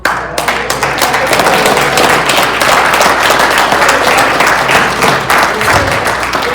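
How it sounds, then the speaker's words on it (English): Conference attendees applaud a panel in a loud, sustained round of dense clapping from many hands that holds steady from start to finish, with occasional thumps mixed in. "round of applause for the panel, please"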